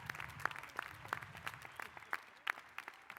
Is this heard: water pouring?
no